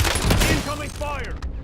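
Video-game gunfire cracks in a short burst right at the start, then fades as a voice talks over the tail of the clip.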